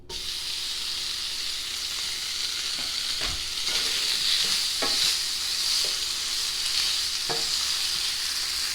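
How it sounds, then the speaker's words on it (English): Thick-cut bacon slices, cut into 1 to 2 inch pieces, fry in a pan on a stovetop with a steady, bright sizzle throughout, broken by a few soft scraping stirs and occasional pops. "while you're cooking your bacon"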